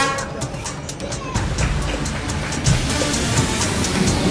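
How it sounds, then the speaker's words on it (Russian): Train passing close by in Hanoi, Vietnam, a loud, steady rumble of rolling wagons that builds after a second, with a brief horn toot early and rhythmic clatter throughout. "Ну что, погнали смотреть поезд?"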